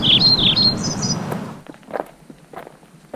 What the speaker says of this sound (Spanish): Así que ustedes tienen una alta gama de aves que podrán ir escuchando y observando